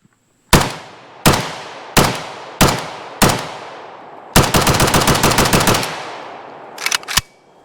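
An AKS74 rifle chambered in 5.45x39mm with a muzzle brake fires five sharp single shots at a steady pace, then a long rapid automatic burst, then two more quick shots, loud and close with ringing decay.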